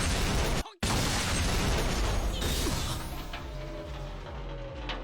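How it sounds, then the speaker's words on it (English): A loud, dense explosion in the Cyberpunk anime roars and rumbles, with a sudden cut near the start and debris-like clatter trailing off afterward. "is this gonna be the explosion at the beginning of the episode?"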